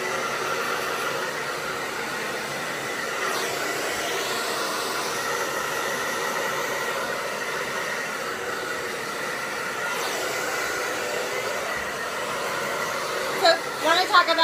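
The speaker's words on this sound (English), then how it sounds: "Talk about my blow dryer for a minute." A hair dryer blows steadily with a constant airy whoosh and whine for the whole stretch, a few brief clicks near the end.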